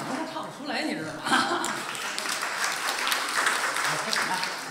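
Audience applause at a crosstalk (xiangsheng) encore show, swelling from about a second in into a dense, steady clapping wash that carries on to the end, with voices talking over it.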